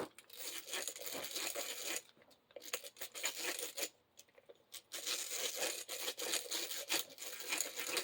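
A hand-cranked drill bit grinds through plaster with a dry, scratchy crunching and rasping that comes in bursts, pausing briefly twice, close and fairly quiet with no talk.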